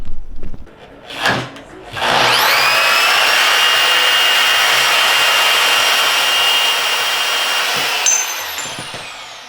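A power saw cuts through metal during welding and fabrication of coilover suspension parts, spinning up after a few brief knocks and holding a loud, steady high whine for about six seconds before winding down.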